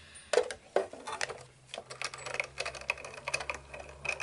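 An electronic cutting machine cuts cardstock for a handmade Santa doll card, giving a quiet run of small clicks and taps with a faint steady motor hum underneath, fairly close.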